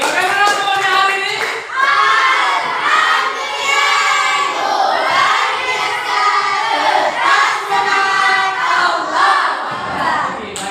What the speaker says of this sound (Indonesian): semuanya tepuk tangan untuk kita semua dulu